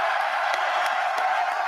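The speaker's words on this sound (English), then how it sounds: "He throws some shade at the NCAA and the crowd gets hyped for him." Steady crowd roar and cheering for a college football coach at a James Madison event, a dense wash of voices with faint whoops rising through it, continuous and moderately loud.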